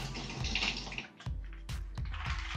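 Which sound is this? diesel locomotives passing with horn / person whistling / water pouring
water pouring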